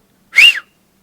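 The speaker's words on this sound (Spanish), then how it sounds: "si usted quería ahuyentar a un animal, ¿cómo silbaba?" A single Silbo herreño whistle from El Hierro, blown to scare off an animal: one loud, clear rising-then-falling tone lasting about a third of a second, heard alone against silence.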